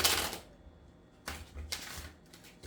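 Tarot cards are shuffled up close in a few quick, crisp riffling bursts separated by short pauses.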